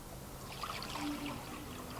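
A quart of water is poured out for a herring brine, a faint steady trickle and splash of liquid running into a container, quiet and close with no talking.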